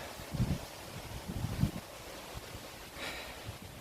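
Gusty wind roars across the microphone with low rumbling buffets and a faint rustle, steady throughout with a few stronger surges.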